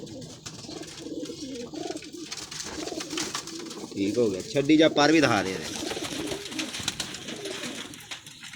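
Pigeons coo in throaty bursts as they are released, rising and overlapping midway, while someone talks over them close by.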